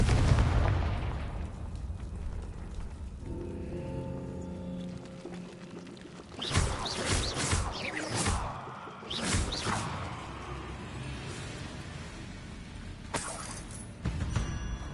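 A Confringo fire spell exploding in Hogwarts Legacy, a cluster of sharp blasts and crackling bursts in the middle seconds, with further pops later over a low ambient game background.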